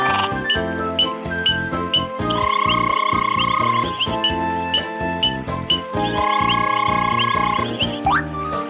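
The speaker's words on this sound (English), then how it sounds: "the frogs are here to sing their froggy song" Frogs croak in a steady, rhythmic chorus alongside bright tinkling chimes and sustained tones, loud and close, with no voices.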